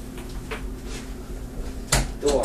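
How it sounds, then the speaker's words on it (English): An indoor door is shut with a single solid thud near the end, standing out over a steady low background hum. "shut the door"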